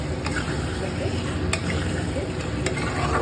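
Mutton sautéing with turmeric in a pan, a constant close sizzle with occasional sharp scrapes and clinks of a spoon stirring the meat.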